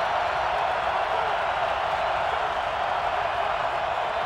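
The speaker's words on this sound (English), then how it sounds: "Crowd is on their feet." Football stadium crowd on its feet during a 2007 Tennessee at Kentucky college game, a steady, dense roar of cheering that holds evenly at full loudness throughout without breaks.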